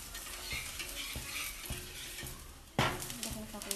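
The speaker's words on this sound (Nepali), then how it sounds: "यसलाई चाहिँ यसरी ओर्काइ फर्काइ गरेर पकाउनु पर्ने हुन्छ।" Suji roti cooking in a pan and being turned over, a soft continuous sizzle broken by a few light taps and scrapes of the utensil, one louder clatter near the end.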